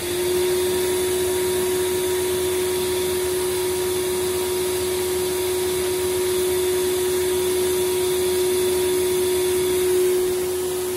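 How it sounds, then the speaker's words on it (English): A Tristar DXL vacuum cleaner runs steadily with its brush roll engaged, a loud, constant motor whine with a strong steady tone, close by and alone for the whole stretch. "if you switch the machine on and pull the head back, that will turn on the brush roll"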